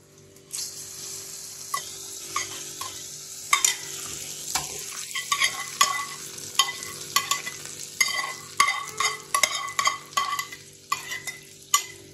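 Tempering fried in oil is stirred into a chutney in a home kitchen, giving a steady sizzle broken by repeated close scraping and clinking strokes of a spoon against the pan, with no talking.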